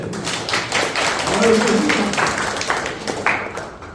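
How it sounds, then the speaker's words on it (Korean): Students at a summer camp lecture clap briefly on request, a loose scattering of hand claps mixed with murmured voices in a room, fairly close and moderately loud. "박수 한번 쳐주세요."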